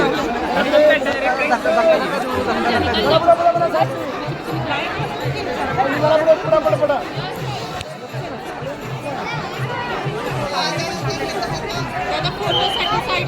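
Dense crowd chatter fills the air at the Ganpati festival in Pune, many overlapping voices talking at once in a loud, continuous hubbub, with nearby speech on top.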